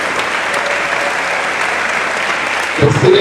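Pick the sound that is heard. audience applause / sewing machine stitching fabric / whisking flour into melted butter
audience applause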